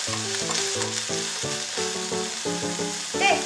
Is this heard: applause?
no